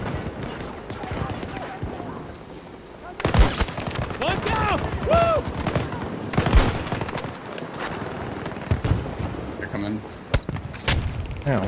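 Sharp shots and bursts of gunfire in Battlefield 2042 punctuate a busy battlefield, some loud and close, others distant, while a player keeps talking throughout.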